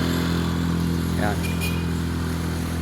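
A Coast Guard motorcycle passes by, its engine giving a steady drone with a brief rising rev in the middle, with someone speaking briefly over it.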